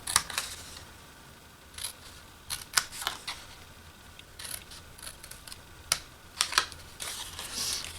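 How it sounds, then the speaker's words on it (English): Scissors cut along the score lines of a paper treat box, giving short, crisp snips at irregular intervals, faint and close against quiet room tone. "Then you're going to cut up each of these score lines."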